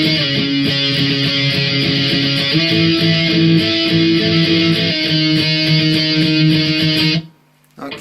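An electric guitar plays the bridge B part of Blink 182's Aliens Exist, steady distorted chords with rhythmic strumming for about seven seconds before cutting off abruptly, loud and close with no talking.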